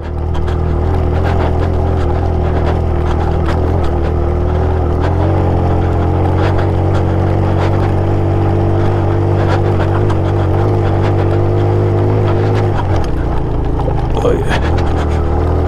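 A Suzuki GS motorcycle carrying two riders on a mountain trip to Karambar Lake in the Broghil Valley, its engine droning steadily and close throughout, with a shift in tone near the end.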